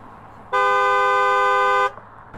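A person's voice imitating a single steady car horn honk, held for over a second, loud and close, standing out against a quiet background.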